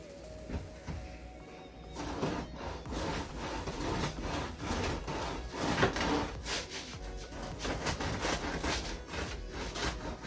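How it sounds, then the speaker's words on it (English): Crisp crust of a freshly baked loaf crackling and rustling as it is squeezed, with dense, dry crunching that runs continuously at close range and moderate volume. "You can hear just how crispy that crust is."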